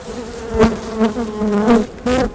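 A dense swarm of about 50,000 bees in a garage buzzing loudly and close, a steady droning hum that swells and dips in several surges.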